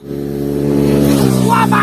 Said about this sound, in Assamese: কোনোবা বাইক আহিছে জোৰছে